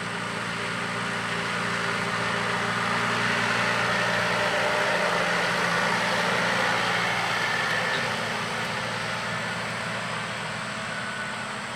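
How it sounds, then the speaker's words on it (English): Tractor engine idling in a farm field, likely a John Deere 6120M, a steady low diesel rumble held evenly for the whole stretch, close and continuous with no talk. "Most of the smaller tractors out on this job are 6120Ms, either two-wheel drive or front-wheel assist tractors."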